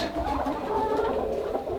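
Flock of chickens and roosters, including Dominique, ISA Brown and White Leghorn birds, clucking continuously and close by in a dense overlapping chorus with no talk.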